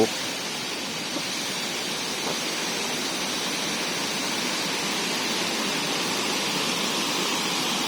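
Huai Mae Khamin waterfall in Srinagarind Dam National Park, Kanchanaburi, pours in a steady, dense rush of water that stays constant and fairly close throughout.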